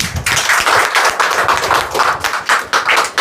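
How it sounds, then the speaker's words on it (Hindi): A church prayer-hall congregation in Indore claps hands together in thanks, a close, loud, dense round of rhythmic clapping lasting a few seconds without any speech. "आंखें बंद करें पहले तो धन्यवाद करेंगे परमेश्वर ताली बजा के।"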